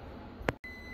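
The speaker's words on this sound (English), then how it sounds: "Timer's going off." A kitchen oven timer signals that biscuits are done baking, giving a single short, clear beep against a faint, steady room hum.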